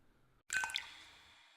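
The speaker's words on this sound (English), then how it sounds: "The sound of water dripping, echoing across metal" Water drips echoing across metal in a quiet post-apocalyptic anime scene: a cluster of sharp, close drips after brief silence, then a long ringing metallic reverberant tail that slowly fades.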